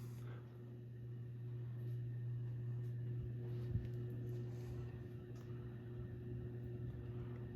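Kmart S.M.C. U-42 42-inch ceiling fan running on medium at about 150 RPM, a faint steady motor hum with a low drone and soft airy whoosh, one small click partway through.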